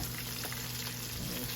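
Pork chops fry in a pan with a dense, steady sizzle that stays even and close throughout the brief moment, no voices over it.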